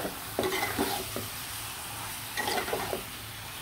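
Spice paste for a meat curry being stirred and fried, a continuous hiss of sizzling with bursts of scraping strokes near the start and again later, no talk.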